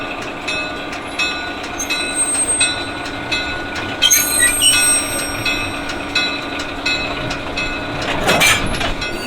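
Rail cars clank and bang in a steady mechanical din as a diesel car couples to a train, with metallic squeals and a sharp coupling jolt near the end.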